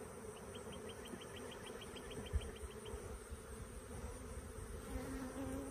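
Honeybees buzz steadily around swarm trap frames being checkerboarded with regular comb, a dense, continuous outdoor hum close by, with a soft clicking pattern and brief bumps from the frames.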